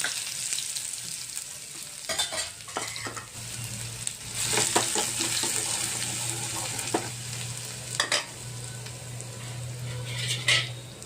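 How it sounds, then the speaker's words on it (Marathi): Two chillies and a garlic clove hit hot oil for a tadka, giving a loud, continuous sizzle and crackle, with occasional clinks of utensils, close up and with no talking. "इथे मी 2 मिरच्या आणि 1 लसूण कळी घेतलेली आहे। हा तडका मारायचा आपल्याला।"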